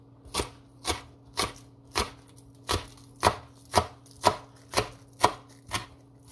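A knife chops a harvested indoor-grown red bird pepper on a board, about a dozen crisp, evenly spaced cuts at a steady rhythm, close and clear with no voices.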